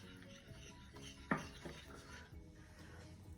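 Sugar is stirred into melted butter in a bowl with soft, gritty scraping, plus one sharp clink of a utensil against the side. Quiet and close, with no talking.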